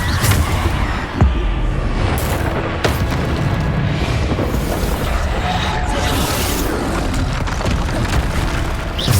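Bombarda spell explosions go off in Hogwarts Legacy amid loud continuous battle noise, one sharp crack standing out early and further booms scattered across a dense, roaring mix.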